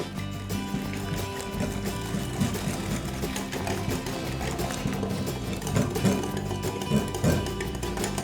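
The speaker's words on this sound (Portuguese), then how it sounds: "Eu vou bater aqui por uns 2 minutos só para que aumente um pouco de volume" An electric mixer beats eggs with sugar for a chocolate cake batter, giving a steady, close whirring hum with a slight rhythmic wobble as the beaters work through the mixture.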